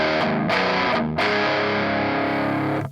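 An electric guitar through an Aura Amps Crunch Master Overdrive pedal plays a gritty, sustained chord pattern with warm, crunchy, amp-like distortion, loud and upfront, fading at the end.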